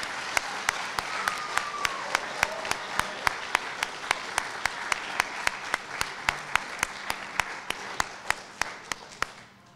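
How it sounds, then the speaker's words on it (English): An audience applauds honorees at a high school distinguished alumni ceremony, a sustained wash of many hands clapping with sharper individual claps standing out throughout, steady and fairly close. "Can we have another round of applause for all of our honorees?"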